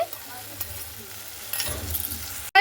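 Whisked sour yogurt stirred into a potol and prawn curry in a pan, with a soft continuous sizzle and gentle scraping strokes up close, ending in a sharp clatter.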